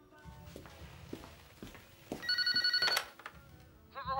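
A telephone ringing with a loud electronic warble in the middle, amid faint footsteps and background noise, followed by a brief higher chirp at the end.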